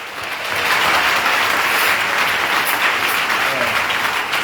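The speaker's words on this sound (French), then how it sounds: "Est-ce qu'on peut acclamer le Seigneur?" A church congregation applauds and cheers in praise, a dense, steady wash of clapping that swells after the first half second and holds loud and close throughout.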